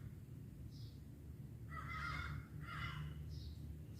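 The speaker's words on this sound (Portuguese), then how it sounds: "Tem um casalzinho de papagaio aqui" A pair of parrots calling outdoors, giving a few harsh, raspy squawks in quick succession over a steady low background hum, moderately near.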